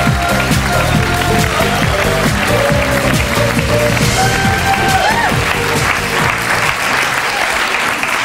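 Loud studio audience applause fills the room as a guest walks in on a German talk show, steady dense clapping throughout with some music-like tones underneath.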